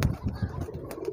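A thirsty young pigeon near water, having just drunk, gives soft, low, repeated cooing murmurs, close by and a little muffled, with no talking.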